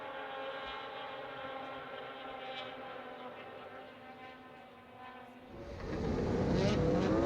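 Racing snowmobiles at a power toboggan championship whine at high pitch along the back straightaway, a steady buzzing drone that dips, then swells into a louder, nearer rush of engine noise at the end.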